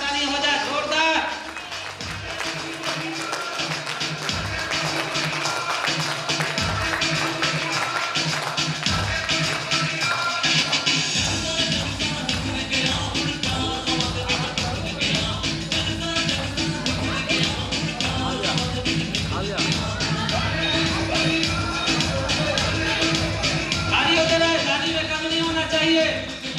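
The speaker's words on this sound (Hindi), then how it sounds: "एक बार जोरदार ताली हो जाए मुन्ना जी के लिए और अभय सर के लिए" Audience at a direct-selling training and motivation event clapping hard for Munna and Abhay, a long dense run of rhythmic applause under a loud speaker's voice and music.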